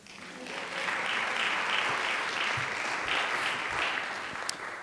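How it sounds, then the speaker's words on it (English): An audience at a university speaking event breaks into sustained applause that swells within the first second, then holds as an even, moderately loud wash of clapping, tapering slightly at the end. "Please give yourself a round of applause."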